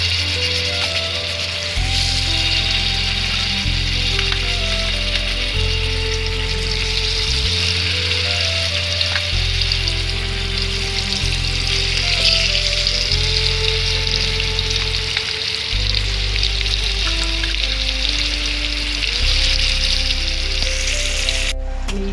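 Fish pieces fry in oil on a hot griddle, a continuous hissing sizzle heard close under steady background music throughout.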